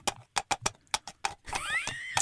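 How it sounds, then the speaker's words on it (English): Clip-clop hooves sounding a light, even rhythm of hard knocks, then a horse's whinny rising over the last beats, all close and clear for a podcast sound effect. "We need like some little clomping horse hooves."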